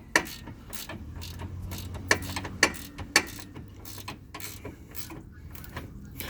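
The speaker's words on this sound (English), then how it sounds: "having a ratchet wrench does help. I'm gonna try and I'm tightening it" A ratchet wrench tightens a bolt on a Jeep Cherokee during a Rough Country lift kit install. Rapid clicking comes in bursts at close range, with a few sharper metallic knocks and some creaking between strokes.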